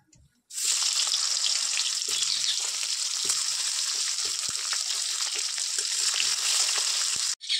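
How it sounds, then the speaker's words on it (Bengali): Raw green banana pieces drop into hot oil and start a loud, steady sizzle after a brief quiet start. The frying hiss stays close and constant with faint clinks, then stops sharply near the end. "এবার ভেজে নেবো কাঁচা কলা।"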